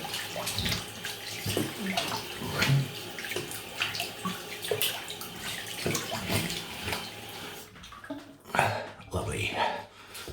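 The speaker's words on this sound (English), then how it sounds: "Cold water. Ice cold Northumberland water." Cold tap water runs steadily into a basin, a continuous splashing rush that carries on beneath a voice.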